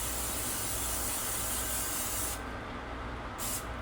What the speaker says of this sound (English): throw a little grease into the pan. I'm using spray.